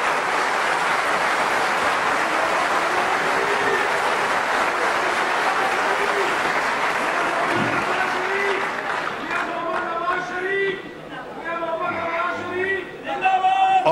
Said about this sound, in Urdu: ان کے لیے آپ سب لوگ تالیاں بجائیں